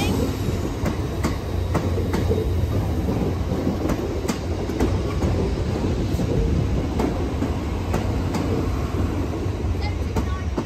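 A British Rail Class 769 train pulls away from a Welsh station with a steady, heavy rumble and faint rhythmic wheel clicks that hold at an even level throughout.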